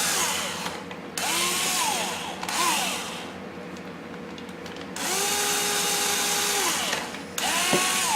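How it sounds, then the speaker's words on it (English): A power drill with a 1/16 inch bit drills a pilot hole in wood, whirring in several bursts, spinning up and winding down with pitch bends between runs, close and loud with brief pauses between. "we'll drill a pilot hole in the wood"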